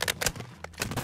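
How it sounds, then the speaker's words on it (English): A magazine swap in the video game Call of Duty MW3 gives a quick cluster of sharp metallic clicks and clacks, close and crisp, lasting about a second. "Switching mags!"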